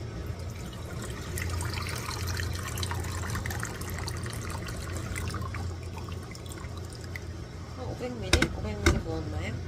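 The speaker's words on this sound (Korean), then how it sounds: "물을 부어줍니다." Water poured into a small pot for tofu kimchi stew, a steady liquid pour and trickle under a low kitchen hum, ending with a few louder splashes and clinks.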